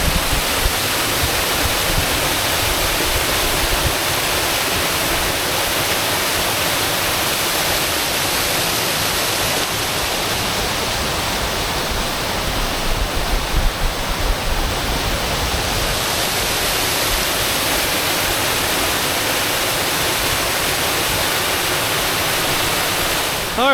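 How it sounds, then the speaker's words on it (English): Brook Falls waterfall on the Bemis Brook Trail in Crawford Notch, New Hampshire, roars steadily as a broad, unbroken rush of falling water, loud and close throughout with no voices. "This one is actually the Brook Falls, or the Brook Basin,"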